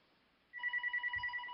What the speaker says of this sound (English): Oh, I can't turn this phone off.